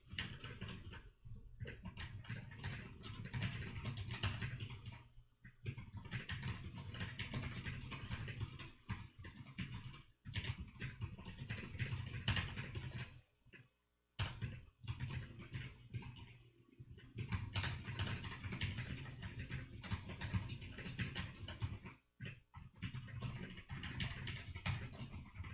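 Steady typing on a computer keyboard during a typing lesson, a continuous run of quiet, close key clicks with a few brief pauses.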